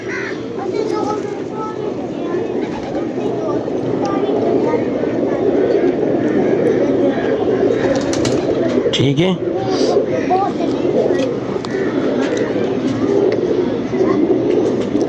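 Pigeons coo at a fancier's loft, soft repeated calls heard close under a steady background murmur while people talk nearby.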